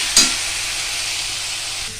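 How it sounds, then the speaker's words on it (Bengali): Banana flower curry mixture sautéing in a pan: a bright, close sizzle with one sharp scrape of a spatula near the start, then continuous hissing. "কষিয়ে নিই ভালো করে"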